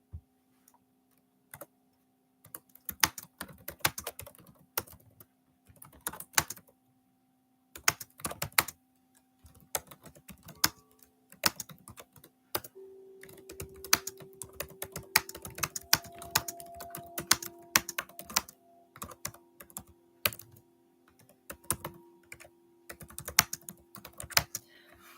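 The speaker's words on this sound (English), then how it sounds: "I'm going to type this in the chat." Typing on a computer keyboard, close and fairly quiet, in irregular bursts of rapid key clicks separated by short pauses, building into denser runs of keystrokes later on, with a faint steady hum behind.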